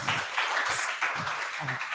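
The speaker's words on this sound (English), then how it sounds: "Give them a big round of applause." Audience applause for student presenters from Sekolah Menengah Sains Sabah at an online poverty-themed conference session, a steady, fairly close wash of clapping throughout with no speech.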